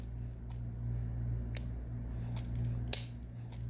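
Several sharp, quiet clicks of Game Boy Advance SP buttons being pressed at irregular intervals, close up over a low background hum.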